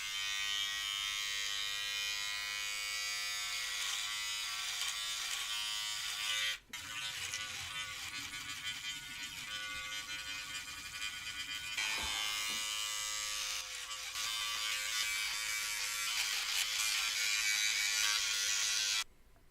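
Steady, fairly quiet electric hair clippers fitted with a guard buzz continuously through a men's home haircut, with brief dips around seven and twelve seconds as the blades shift through the hair.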